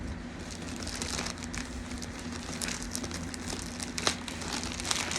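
Cardboard box of Abeka 8th grade homeschool curriculum books being opened, a steady dense crinkling and rustling of packaging handled up close with a few sharper crackles, no talking.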